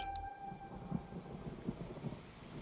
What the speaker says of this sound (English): Oh no, here comes the rain.